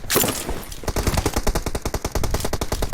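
Rapid automatic gunfire in a competitive online shooter match, a burst of dense repeated shots after an initial loud blast, steady and close with no talking.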